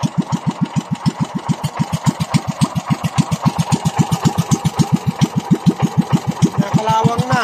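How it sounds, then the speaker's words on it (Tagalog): An old, rusty boat engine about fifteen years old runs at a steady idle, its loud, evenly spaced thumping chugs repeating rapidly and close by. "Yung makina."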